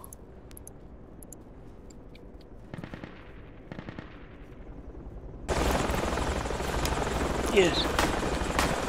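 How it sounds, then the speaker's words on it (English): Helicopter in the Project Reality combat video game, a rotor and engine roar that swells up loudly partway through and runs on with clattering gunfire-like bursts, while players talk over it. "We getting in another chopper?"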